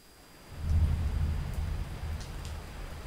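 Rain and thunder effect in a Unity video game: a low, steady thunder rumble swells in after a brief quiet moment and then holds under a soft hiss of falling rain.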